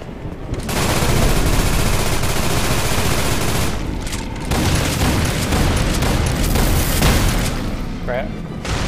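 Sustained gunfire in Destiny during the Haunted Hell's Reach Inferno event in Forsaken Canyon, with loud continuous shots and booms over several seconds and brief pauses, with voices mixed in.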